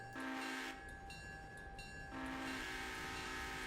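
Trains rolling through in the Railroader rail simulation game, a steady loud rumble of wagons with long sustained horn blasts sounding twice, alone without talk.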